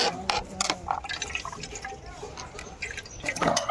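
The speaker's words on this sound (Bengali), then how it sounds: "এটা এখন একটু চিপড়ে নেব। জলটা ঝরানো হয়ে গেলে" Water squeezed and draining from washed potatoes while making potato pakoras, with close wet splashes, drips and trickling, over a soft background.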